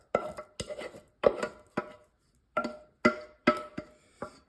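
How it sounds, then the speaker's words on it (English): Chunky chicken recipe mixture scraped and dumped into a greased 13x9 baking dish, giving a series of close clattering knocks and soft wet thuds in uneven bursts, with no talking. "we're just gonna dump this mixture into the dish"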